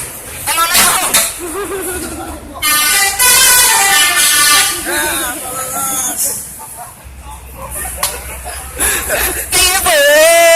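A bus telolet horn in Tegal plays loud, close, repeated melodic tooting phrases in several bursts, with voices talking between and over the honks.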